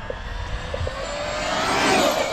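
A Traxxas Maxx v2 RC car with 4S power and 34/47 gearing runs at full throttle, its high-pitched motor whine rising steadily and growing louder as the car moves off.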